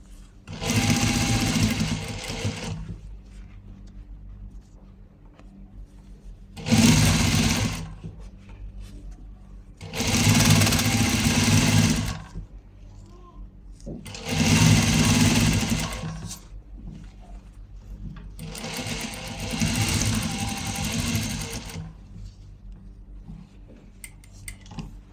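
A sewing machine stitches fabric with a double seam in five separate runs, each a loud, fast mechanical whir lasting a few seconds, with quieter handling pauses between them, close to the listener.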